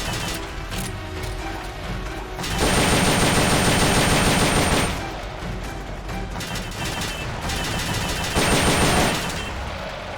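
Loud, sustained automatic gunfire in the video game Metal Gear Solid Peace Walker rattles in dense bursts, surging in two heavier stretches over constant game noise.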